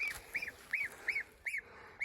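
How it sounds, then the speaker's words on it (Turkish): A goose that is blind in one eye honks five times in a steady, evenly spaced series of nasal calls, fairly close and clear. "Bu gözü görmeyen kazımız."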